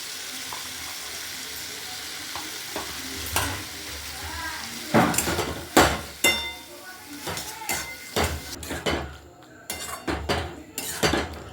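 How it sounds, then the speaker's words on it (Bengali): Marinated boneless chicken pieces go into a pan of frying spice masala, with sizzling, stirring and spoon clinks against the pan, growing louder and more broken halfway through as the meat is mixed. "এবারে আমি মাখানো মাংসগুলো দিয়ে দিচ্ছি।"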